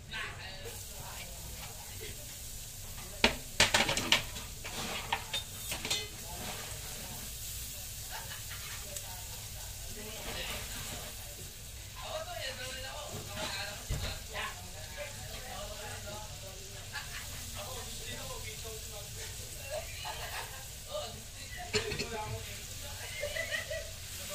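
Chopped garlic sizzles and fries in a hot pan with a steady, close hiss, broken by a few sharper clatters and some muffled background voices.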